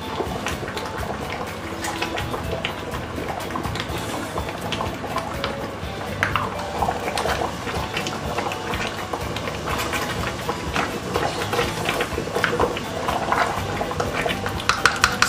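Ugu soup with cocoyam bubbling in a pot, a steady, continuous close-up simmer of popping bubbles that stays dense and even throughout, with no talking.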